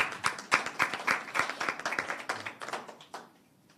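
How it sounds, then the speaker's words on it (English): Audience applauding at an education committee press conference, a burst of brisk handclaps of moderate size that thins out and fades toward the end. "Now, yes, you can clap."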